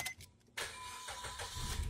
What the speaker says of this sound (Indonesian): Sembari kita nyalakan mobil ini. Oke, kita nyalakan.